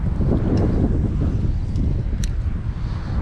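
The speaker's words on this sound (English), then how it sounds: "That wind is getting worse" Steady, loud wind roars across the microphone outdoors at a fishing spot by culverts during a tornado watch, a continuous rumbling buffet with no break for the whole span.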